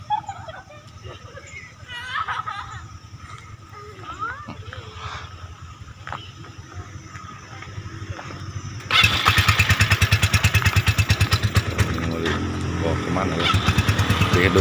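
A motorcycle engine starts up about nine seconds in and settles into a loud, steady, close-range idle. It is parked at a former Dutch colonial tea factory in a cool hillside agritourism area, and quiet speech and outdoor ambience come before it.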